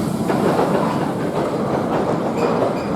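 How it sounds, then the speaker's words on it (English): The Icon roller coaster train at Blackpool Pleasure Beach rolls past with a steady, fairly loud rumbling clatter along the track, and no one speaks. "now here comes another train"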